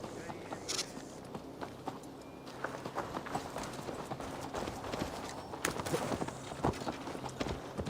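A horse in the Assassin's Creed Valhalla video game clip-clops along at a walk, its hooves giving irregular, moderately close hits over a low ambient background.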